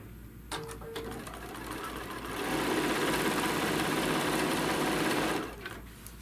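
A close sewing machine runs through a quilt border. A few clicks come first, then a rising whir holds steady for about three seconds before it stops.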